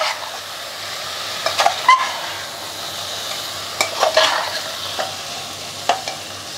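Mutton masala seasoned with cumin powder and salt fries in a pan over a medium flame, giving a steady close sizzle broken by several sharp spoon-stirring scrapes and clinks.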